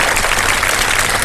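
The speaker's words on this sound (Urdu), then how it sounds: "میں چاہتا ہوں ایک بار پھر جنید صاحب کو ذرا بھرپور تالیاں بجا دیجیے" Studio audience applause on a Ramadan iftar TV show, a brief dense burst of many hands clapping close and loud throughout.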